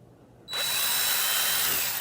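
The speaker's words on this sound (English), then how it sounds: "whenever I use a drill like this" A power drill fitted with a freshly hand-sharpened bit starts abruptly after a short silence and runs at a steady high whine, close and loud, with no talking.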